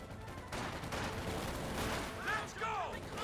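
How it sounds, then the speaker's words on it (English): MG34 machine gun bursts in the World War II strategy game Company of Heroes 2, a dense rattling fusillade of distant gunfire blended with battle noise and whistling shells, with a commentator talking over it. "MG34 here."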